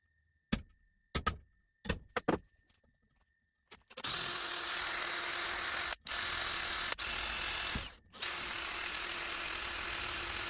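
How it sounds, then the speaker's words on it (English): A few sharp clicks and taps, then a power drill whirs loudly for several seconds drilling a series of holes for a kayak transom mount, briefly stopping and restarting twice; no talking. "I'm going to drill a series of holes up here."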